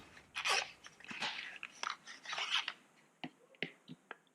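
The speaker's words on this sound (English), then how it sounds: "I'm going to go ahead and open the box to reveal the pen." The cardboard box of a LAMY AL-Star Turmaline fountain pen is opened carefully up close, with soft scraping, rustling and crinkling followed by a few sharp little clicks and taps as the lid and insert come free.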